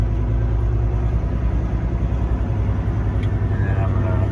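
A semi truck with a 13-speed transmission pulls away slowly in first gear, its engine a loud, steady low rumble heard from the cab, with someone talking over it.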